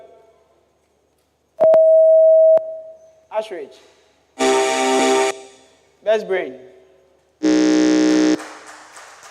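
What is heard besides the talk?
quiz contestants testing their buzzers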